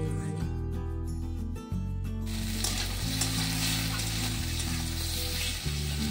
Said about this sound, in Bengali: এখানে ঝিঙেটা ভেজে নিচ্ছি প্রথমে